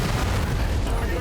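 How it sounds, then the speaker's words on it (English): Explosion of a battlemech's stored ammunition in the MechWarrior 5 game, a dense, sustained low rumble of blasts and booming fire that fills the whole stretch, with talk over it. "Got an ammo explosion"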